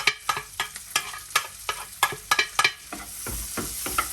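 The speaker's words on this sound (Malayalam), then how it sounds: "നമ്മുടെ വെളുത്തുള്ളി ഉള്ളി ഈ രണ്ടും ഒന്ന് വഴറ്റണം" Garlic and onion sauté in a pan for soup, with a quick irregular series of close spatula scrapes and stirring knocks over a soft frying sizzle.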